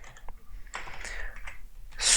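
Computer keyboard typing while entering Python socket client code, a few soft scattered key clicks early on, then a denser burst of keystrokes near the end.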